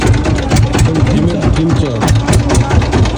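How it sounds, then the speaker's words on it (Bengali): A boat engine starting up and then running steadily, with a loud continuous rumbling drone close by while a person talks over it, heading out on a river trip in the Sundarbans. "মেশিন স্টার্ট হচ্ছে।"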